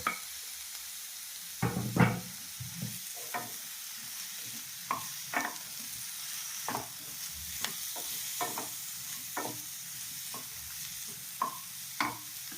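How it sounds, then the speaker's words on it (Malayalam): Chopped tomato goes into a sizzling bottle gourd and moong dal curry, a quiet sizzle beneath irregular sharp spoon clinks and stirring scrapes against the pan, close and isolated, with no speech. "ഒരു തക്കാളി അരിഞ്ഞതും കൂടെ ചേർത്ത് കൊടുക്കുന്നു"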